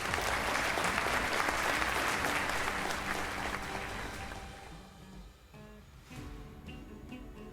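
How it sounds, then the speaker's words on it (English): Hall audience at a school investiture and awards ceremony applauds loudly with dense clapping that gradually fades to scattered claps and room murmur, then picks up slightly again. "Keep clapping."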